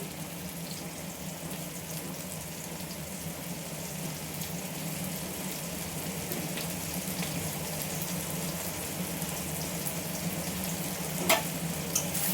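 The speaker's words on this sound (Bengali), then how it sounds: "এবার এই মশলাটাকে একসঙ্গে নেড়ে চেড়ে কষিয়ে নেব।" A masala of tomato, onion, turmeric and salt fries in a pan, giving a steady, even sizzle with faint stirring throughout and one brief clink near the end.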